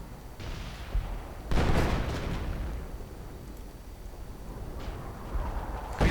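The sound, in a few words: artillery fire in a video game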